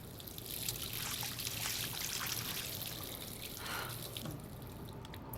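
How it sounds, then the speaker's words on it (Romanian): Water runs and splashes steadily into a sink in the video game Life is Strange for several seconds. The soft trickling and pouring wash sits under faint background ambience, with no talking. "Sink... A, da, hai să mă dau cu apă pe față."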